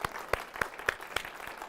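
An audience at a live show applauds. A thin round of clapping comes in evenly spaced, fairly faint claps, like a few people clapping in a steady rhythm, with no voices.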